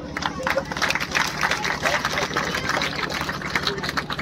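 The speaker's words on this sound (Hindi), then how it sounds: "इसके पश्चात बच्चे जोरदार तालियां बजाते रहे।" A crowd of children claps loudly and continuously at a ceremony honouring a legislator, with a dense wash of applause blended with crowd noise and background voices.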